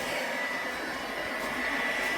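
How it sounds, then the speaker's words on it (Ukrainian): A hair dryer blows a steady, fairly quiet airy hiss, heating the crankcase of a scooter during a crankshaft bearing replacement, continuous with no pauses. "А фен має не таку велику температуру, як газова горілка, то з нею було би швидше"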